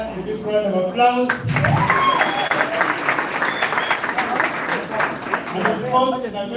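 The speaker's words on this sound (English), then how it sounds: "Let's give our Global Ambassador a big round of applause." An audience at a training event applauds for a global ambassador, a dense, sustained wash of clapping from a sizeable crowd, with a voice speaking over the start and end of the ovation.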